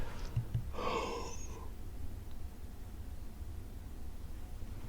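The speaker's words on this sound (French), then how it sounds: "Je sors du boulot, du coup, un petit bâillement, petite fatigue." A short tired yawn after a workday, a breathy drawn-out exhale lasting about a second, heard close over steady low background hiss.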